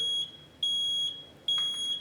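A smoke detector being tested with its button emits three loud, piercing electronic beeps in quick succession, each held briefly with short gaps between.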